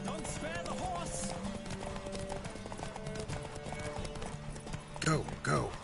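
Horse hooves clip-clop at a gallop in the Witcher video game, a steady close rhythm running throughout, with a brief neigh near the end and game music and a voice talking over it.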